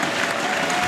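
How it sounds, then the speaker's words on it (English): A crowd applauds steadily at a bowling stepladder final of the Brunswick Euro Challenge, a dense, continuous clapping that fills the space. "Big round of applause for Mika and his first strike also on lane 15."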